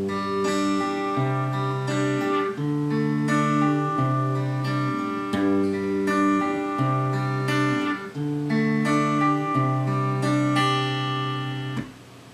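An acoustic guitar picked with the fingers through a repeating chord pattern, sustained bass notes under ringing higher strings in a smooth, even rhythm, played solo and up close without any talking.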